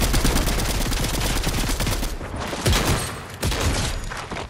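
Rapid SMG and shotgun fire in the video game Fortnite, loud and dense, with bursts of shots following each other closely and short breaks between volleys.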